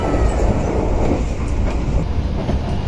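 An executive-class passenger train on the Jakarta to Malang route rolls steadily along the rails while crossing a river, a loud, close, continuous rumble with faint clattering and a thin metallic whine above it, no voices.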